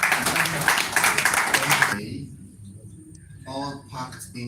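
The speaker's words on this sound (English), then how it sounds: "Please give a round of applause for legend." An audience at a plant-based health summit in Nigeria claps in a dense, loud burst of applause for about two seconds. The applause then cuts off abruptly, and speech and faint background sounds follow.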